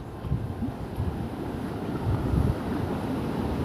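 Steady rushing water roars continuously, loud and close, after two days of heavy rain near village temples, mixed with wind-like noise and no clear voices.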